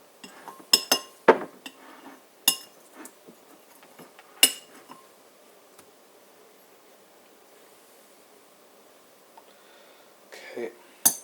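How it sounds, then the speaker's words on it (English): A utensil scrapes chicken salad from a bowl onto pita bread, giving a few sharp clinks and scrapes near the start and again at the end, with quiet pauses in between. "Gotta scrape the rest off from the bowl."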